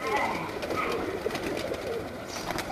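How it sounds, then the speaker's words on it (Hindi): Domestic pigeons at a dera in Gujrat, a flock let loose to fly, give soft cooing and bird calls that run steadily through the whole stretch at moderate level, with a faint voice now and then. "ये जी मेरे घर के कबूतर हैं तमाम, जो अब आपको शो करवाने लगे हैं"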